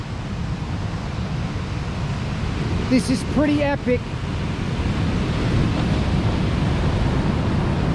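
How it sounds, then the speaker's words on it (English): Rough surf with big waves breaking along New Smyrna Beach: a constant broad roar of crashing water mixed with wind buffeting the microphone, while someone briefly speaks over it. "Look at that surf all the way up and down the beach."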